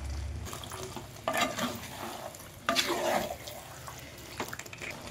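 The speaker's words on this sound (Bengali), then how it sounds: "এটা সাবধানে খুব নাড়তে হবে, যেহেতু মাটির জিনিস আমি গ্যাসে বানাচ্ছি" Malai chicken made with desi chicken is stirred in a clay kadai on a gas stove, with soft scraping strokes and a low sizzle, and a few louder stirring bursts rising over a steady kitchen background.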